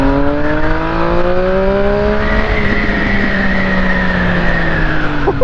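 A high-performance motorcycle on a race circuit accelerates with a loud, close engine whine whose pitch climbs smoothly and steadily through the rev range without a break.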